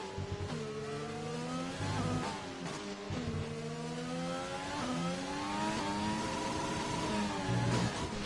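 A racing car engine in a video game at Abu Dhabi, loud and steady, climbs repeatedly in pitch through the upshifts, with short drops at each gear change.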